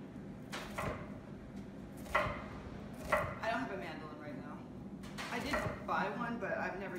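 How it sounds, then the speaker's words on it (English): A sharp knife slices onions into thin 1/8-inch half moons for pickling, giving a few scattered, distinct chopping knocks on a board beneath a talking voice. "using a mandolin or a sharp knife, cut the onions into 1/8-inch thick half moons"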